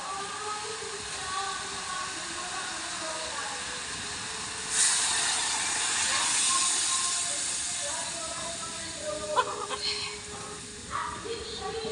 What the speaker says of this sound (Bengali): এবার জল ঢেলে দেবো।